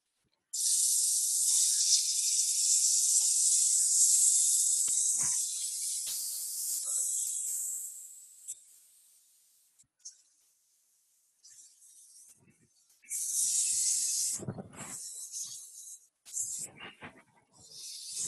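Hand sanding of wood with a folded eighth-sheet of sandpaper, a steady close hiss of long strokes, then quieter intermittent rubbing bursts with short pauses between.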